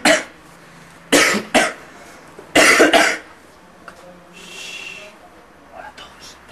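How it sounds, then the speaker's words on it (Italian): Several sharp, loud coughs in short bursts, a pair early on and a harsh double cough midway, with quieter breathing and faint sounds between. "Che schifo. Ho la tosse."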